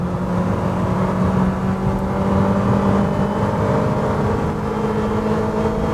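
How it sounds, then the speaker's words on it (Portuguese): A compact SUV engine pulls hard at full throttle from 60 km/h during a road test, a steady droning whine with rising hum and road noise, loud and continuous inside the cabin. "Vamos aproveitar aqui para fazer a retomada de velocidade, olha, 60 por hora, vou pisar tudo."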